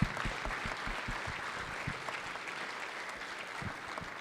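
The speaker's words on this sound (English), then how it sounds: "Round of applause, everybody." Legislators and guests in a state House chamber applaud during a session, a moderate, somewhat distant round of clapping with distinct individual claps standing out over the continuous patter.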